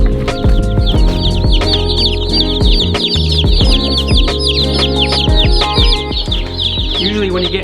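Young Cornish cross chicks cluck and peep continuously at close range, a dense, busy chorus of overlapping calls with a few louder chirps throughout.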